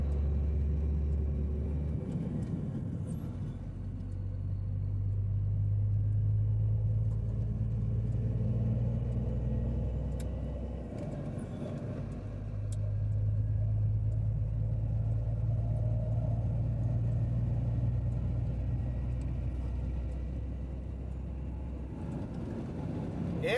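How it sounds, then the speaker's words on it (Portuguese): A Mercedes Axor nine-axle truck on a badly potholed road near a border bridge, a steady low engine rumble that swells and fades twice, with faint occasional rattles and no talk. "Olha aí o Axor no nove eixo, olha aí, ó."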